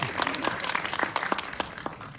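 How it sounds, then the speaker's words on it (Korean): Applause breaks out from an audience at a crowdfunded film screening, a scattered crowd of clapping hands with sharp individual claps standing out, moderately loud and steady for a couple of seconds. "이분들 박수 부탁드립니다."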